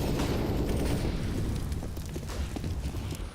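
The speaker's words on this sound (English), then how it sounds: "I like that molly. Just gives Saw close mid control." A molotov cocktail burns in Counter-Strike during a BLAST.tv Major Europe RMR match, a steady, dense fiery roar that fills the whole stretch with low rumble and crackle, faintly tapering toward the end.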